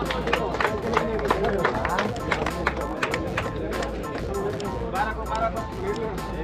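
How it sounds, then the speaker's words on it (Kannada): Crowd at a local NAC cricket tournament applauding, with dense scattered clapping and crowd babble blending into a continuous noisy wash. "ಜೋರಾದ ಚಪ್ಪಾಳೆ ತಡ್ಬೇಕಪ್ಪ."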